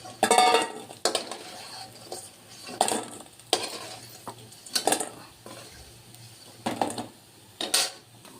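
Fritters (bora) cooking in a pan of oil in a home kitchen, with soft frying sizzle broken by several distinct clatters and scrapes of a utensil against the pan at irregular intervals.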